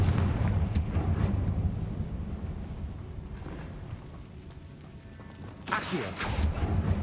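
A Confringo spell blast in a Harry Potter video game, with a booming burst rising near the end after a stretch of low rumbling game ambience.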